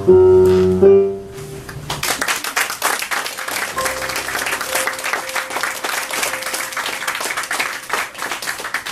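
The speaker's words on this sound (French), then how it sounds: "applaudissez-la encore une fois, s'il vous plaît, mesdames et messieurs" An audience at an evening poetry event claps after a poem reading. A brief held musical tone opens, then sustained applause from many hands stays fairly loud and steady throughout, with a faint tone lingering underneath.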